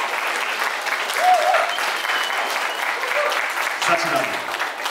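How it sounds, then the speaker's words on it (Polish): Wedding guests applaud steadily for the bride and groom's first dance, dense clapping filling the room, with voices and brief whoops rising over it. "Big applause for them."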